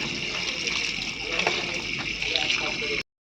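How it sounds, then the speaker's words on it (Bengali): Mushrooms are rinsed by hand in water for a Bengali home curry, giving a steady, close rush of sloshing, splashing water that cuts off abruptly after about three seconds. "মাশরুমগুলো আমি একটু ভালো করে ধুয়ে নেব"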